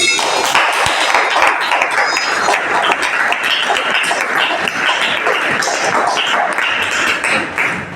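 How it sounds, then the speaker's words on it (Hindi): Students applauding in a Class 11 physics classroom: a sustained, dense burst of many hands clapping together, loud and even for several seconds with no talk over it. "वेरी गुड, ताली बजाओ।"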